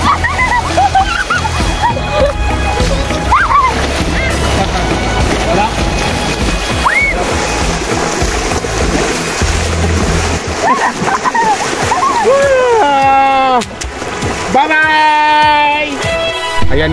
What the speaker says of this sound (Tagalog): nakita nyo na naligo ako sa ilog namin dito